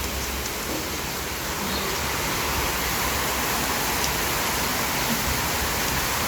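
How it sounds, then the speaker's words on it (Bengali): Steady rain falls outside a home balcony, a dense, even hiss that holds at moderate loudness for the whole stretch with no voices over it. "অনেকদিন পর একটা বৃষ্টি হচ্ছে"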